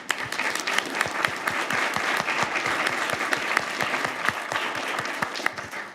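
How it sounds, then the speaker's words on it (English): A town hall audience claps for a panel in a sustained burst of dense applause that carries evenly from start to finish. "let's give them a round of applause"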